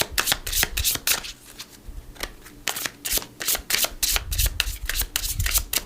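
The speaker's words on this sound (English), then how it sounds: "We're going to do a Metatron Oracle card, and then we'll look at that mystery card." Metatron oracle cards are shuffled and drawn up close, producing a rapid series of crisp, loud riffling and slapping card sounds in irregular bursts, without speech.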